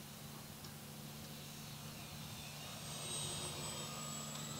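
An FMS 1100mm Miss America P-51 Mustang RC warbird with Reflex V2 flies past outdoors, its electric motor whine faint and distant, swelling briefly as it passes over a soft background hiss.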